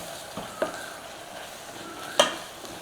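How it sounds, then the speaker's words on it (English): Flour cooking into softened onions in a pot, a low steady sizzle with a few scattered scrapes and knocks of a spoon, one sharper clatter near the end, close and fairly quiet with no talk. "when you've got your onions softened up, we want to be going in there with our flour. Start to cook that down in there."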